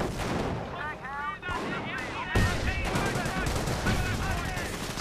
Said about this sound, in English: He's using decoy artillery again, but the Grenadiers doesn't fall for that trick. But it's pretty dangerous because it can be real artillery